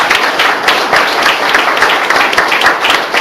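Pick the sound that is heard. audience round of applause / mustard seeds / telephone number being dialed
audience round of applause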